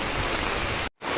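Heavy rain pours during flooding in Samar, a dense, loud hiss of water that drops out abruptly to silence for a moment before resuming.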